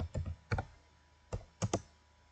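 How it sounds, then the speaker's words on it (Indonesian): Computer keyboard typing, close and quiet: a few separate clusters of quick key clicks with short pauses between them. "Kemudian langkah keempat yaitu kita ketik enable dulu"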